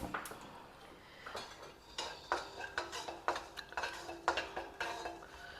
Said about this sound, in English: Here I have some raisins. We'll dry roast them also.